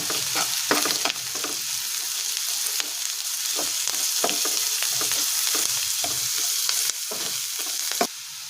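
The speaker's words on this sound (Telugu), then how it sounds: "ఉల్లిపాయలన్నీ కొద్దిగా ఫ్రై అయిన తర్వాత పసుపు సాల్ట్ కరివేపాకు వేసుకొని ఫ్రై చేసుకోవాలి" Onions fry with turmeric, salt and curry leaves in a hot pan, a loud continuous sizzle punctuated by repeated scraping strokes of a stirring spatula, close and steady until a brief drop near the end.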